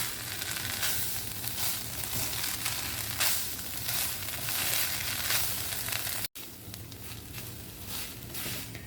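Tuna stirred into grated coconut frying in a pan, with a steady loud sizzle and scraping stirring strokes throughout, broken by a brief cut before the frying hiss resumes.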